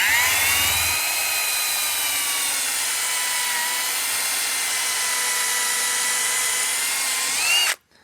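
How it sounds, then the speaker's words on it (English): A power drill drives pilot holes for screws into wood, whining steadily at high speed for several seconds before stopping abruptly, heard close and alone. "I'm gonna have to test out pilot bit size with these screws"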